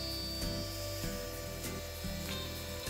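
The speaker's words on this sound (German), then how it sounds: "Ich säge das Holz so zurecht, dass ich alle 4 Seiten einmal gesägt habe" Handheld saw cutting through a piece of wood, trimmed on all four sides to strip away the treated surfaces, giving steady low rasping strokes at close range with no talk.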